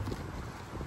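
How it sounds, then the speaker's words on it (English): Cold wind buffets the microphone outdoors in a continuous, loud rush of low rumbling noise lasting under a second, with no other sounds. "This cold, wind is like cutting through you."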